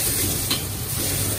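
Pancit canton noodles sizzle and hiss in a wok over strong heat, loud and close, with brief scraping bursts as they are stirred.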